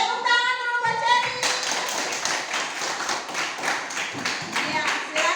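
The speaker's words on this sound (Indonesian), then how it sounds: "Tepuk tangan dulu Mbak Cheryl." After a brief spoken voice, a classroom of students breaks into brisk clapping for a classmate, many overlapping hand claps close by and continuing steadily.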